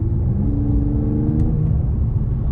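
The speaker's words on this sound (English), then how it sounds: "I put it in Sport Plus because so we could hear the exhaust better" Mercedes-AMG E53 in Sport Plus mode gives a low, steady exhaust drone with layered engine harmonics, close and fairly loud, with no voices over it.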